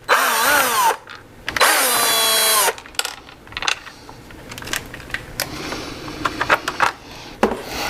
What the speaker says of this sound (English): We will remove more screws.